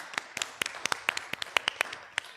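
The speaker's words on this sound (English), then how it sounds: "And one more round of applause" A small audience claps steadily for a decorated altar at a gathering, with sharp, separate claps in an uneven rhythm and no talking.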